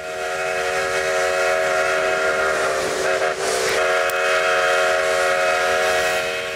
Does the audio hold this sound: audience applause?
no